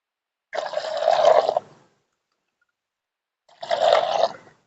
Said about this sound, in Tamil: இப்ப இந்த இந்த சோப்பு கரைசலோட இந்த மஞ்சள் தூள் கரைசலையும் ஊத்திக்குவோம்